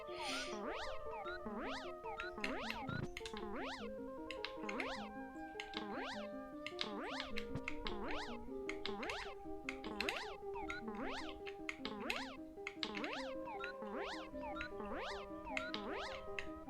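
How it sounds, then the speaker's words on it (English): A pet cat meows over and over in a fast, steady rhythm, roughly two rising-and-falling calls a second, continuous and fairly loud throughout with no talking. "What are you doing down there, cat?"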